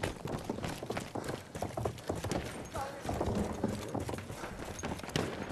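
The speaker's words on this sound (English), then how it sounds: "horse cavalry" Rapid clattering hoofbeats of cavalry horses galloping in Battlefield 1, loud and continuous, mixed with busy game noise and a voice talking underneath.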